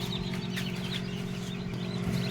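Newly hatched chicks in a brooder, a dense continuous chorus of high cheeping heard up close over a steady low hum, with no talking.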